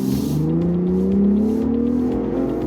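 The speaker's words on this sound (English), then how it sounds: "Man, that exhaust sounds good." A 2023 Ford Bronco Raptor engine revs up with a rising, throaty exhaust note, loud and close, building steadily as it accelerates.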